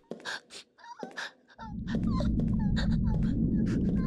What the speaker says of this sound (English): That crying sound sounds like a whiny puppy.